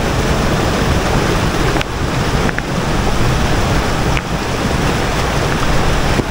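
Loud, steady roar of a hillside waterfall and a strong rushing current, broadband and continuous throughout with no pauses, close to the microphone and heavily buffeted by wind.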